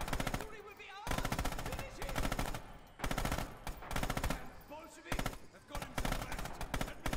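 In Rising Storm Red Orchestra 2, a machine gun fires repeated rapid bursts separated by short pauses, close and prominent, with players talking between and over the shots.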